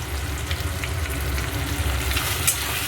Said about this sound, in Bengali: মশলাটা আমি ভালো করে কষবো যতক্ষণ না আদার কাঁচা গন্ধটা যায়